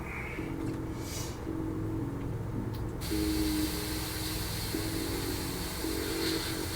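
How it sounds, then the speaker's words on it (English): Steady airy hiss of an airbrush spraying paint on a Su-35S Flanker-E model, with a brief pause partway through, alongside a low mechanical hum nearby. "the nice thing is with the airbrush, you can get in close and get your angles nice"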